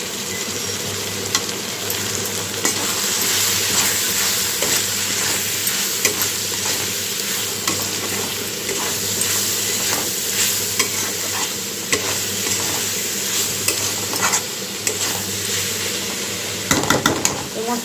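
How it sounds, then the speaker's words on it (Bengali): Chili, cumin and turmeric powders fry with salt in a pan, giving a steady, close sizzle punctuated by frequent scraping and stirring strokes throughout, with no pause in the frying. "মশলাটা আমার ভাজা ভাজা হয়ে গেছে, কষানো"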